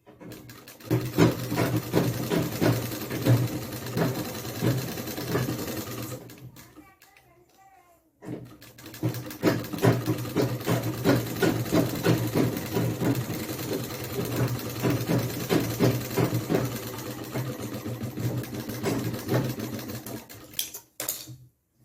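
A sewing machine stitches patiala trousers with a continuous mechanical whir close by. It pauses once briefly and then runs again, while a person talks over it.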